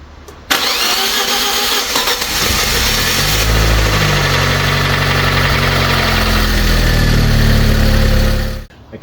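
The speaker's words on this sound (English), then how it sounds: "I can't believe we managed to get this car running." Fiat 500 engine, just back from a head gasket repair, cranks and fires, then runs at a loud, rough idle with a brief rev before cutting off abruptly, no voices over it.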